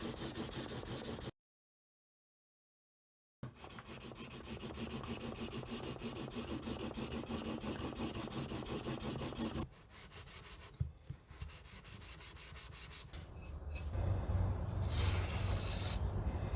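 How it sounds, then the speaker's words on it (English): A block plane blade rubs back and forth on sandpaper, working up from 400 grit, in a fast, steady rhythm, with a brief silence and a few clunks partway through. "I work up from 400 grit, flattening the burr before moving on to the next grit."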